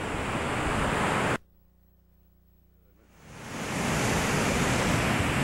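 Waves and surf at the beach on Long Beach Island in 1988: a loud, steady broadband roar of breaking water that cuts out to near silence for about two seconds, then swells back.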